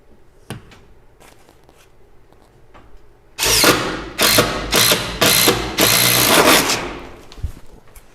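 After a quiet stretch with faint clicks, a power drill roars through wooden I-joists in several loud, grinding bursts with short pauses between.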